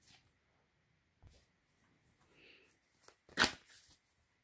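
Oracle cards are shuffled and cut by hand, with a soft riffle and a brief sharp flutter of cards near the end, all close and otherwise quiet.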